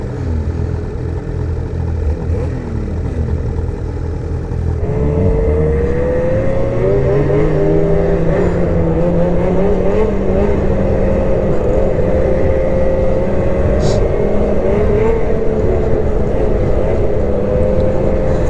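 A BRP Lynx 600R snowmobile engine runs loud and close, droning steadily and then rising in pitch as it revs and pulls away, the tone wavering through speed changes without any talking.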